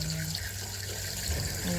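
Tap water runs into a sink while something is washed, a steady low splashing stream close by for under two seconds.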